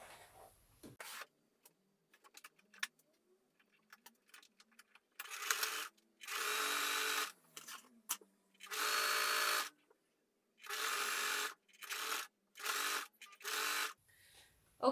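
A sewing machine runs a zigzag stitch around the hem of a sleeveless hoodie in several close, loud bursts of a few seconds each, separated by short pauses and quiet handling sounds.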